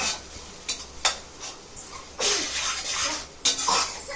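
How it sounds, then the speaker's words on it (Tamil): Ground tomato is sautéed in oil in a pan, with a few utensil knocks followed by bursts of louder wet sizzling and scraping, close and uneven, with no clear speech. "தக்காளி அரைச்சது ஊத்திடலாம் தக்காளியும் சேர்ந்து நல்லா எண்ணெயில வதக்கி விட்டுட்டு"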